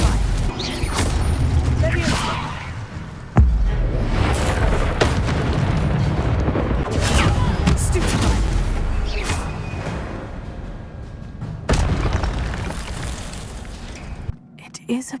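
Spell blasts and booming impacts from combat in the Hogwarts Legacy video game, loud and dense with repeated explosive hits, overlaid with shouted incantations and game music throughout.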